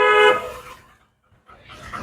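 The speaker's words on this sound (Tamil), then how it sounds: "ஹாரன் ஒரு தடவை." Car horn sounding once during a driving lesson, a short close tonal honk that fades, followed by a pause and faint cabin noise.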